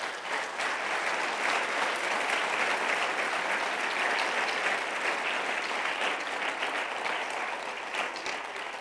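A church congregation applauds in praise of the Lord at a prayer centre, a dense, steady wash of clapping that holds at full strength for the whole stretch with no voices breaking through.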